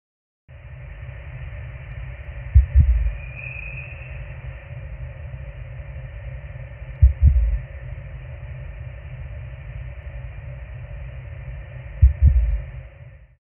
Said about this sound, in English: A slow, unnerving heartbeat,